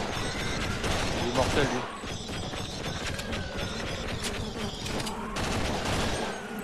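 Gunfire and reload mechanics from an M16 in the Sven Co-op video game, dense clattering shots and metallic clicks running continuously with a voice speaking briefly over the action.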